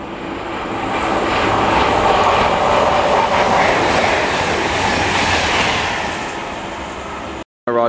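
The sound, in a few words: Virgin Trains Voyager passing through station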